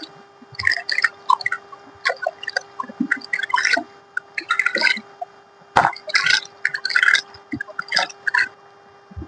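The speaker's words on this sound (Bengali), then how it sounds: "এরপরে আমি ধুয়ে নেব, একদম পরিষ্কার জলেই ধুয়ে নিচ্ছি।" Hands and facial skin rinsed with clean water after a de-tan scrub: irregular small splashes and drips, close and fairly quiet, with a steady faint hum in the background.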